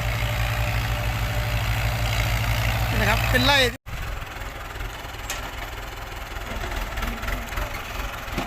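A farm tractor engine idles in a sugarcane field with a steady, deep rumble throughout while someone talks over it; the engine stays constant and close.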